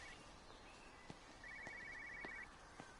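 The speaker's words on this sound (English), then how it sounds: "That's a cell phone." A cell phone rings inside the video game Everybody's Gone to the Rapture, a steady trilling burst lasting about a second against a quiet ambient background, with a few soft thuds before and after.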